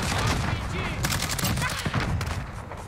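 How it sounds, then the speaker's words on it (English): Dense, continuous gunfire and launcher blasts from the video game Modern Warfare during a Halloween event, loud and rapid with overlapping bursts throughout. "These guys are shooting launchers at me."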